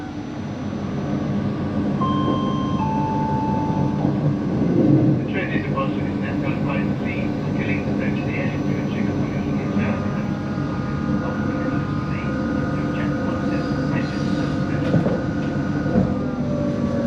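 Interior of a CrossCountry train under way, a steady low rumble and wheel drone with faint rattles and clicks, continuous throughout, with a voice talking over it at times.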